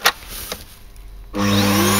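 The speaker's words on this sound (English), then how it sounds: "I've got a good old crappy Hoover" An old, worn Hoover vacuum cleaner in a knife-making workshop switches on after a few faint knocks and runs loud and steady, a broad continuous whine with a low hum.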